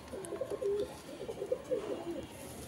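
Pigeon cooing, a few soft throaty coos repeating in a loose rhythm, close by, over a quiet background.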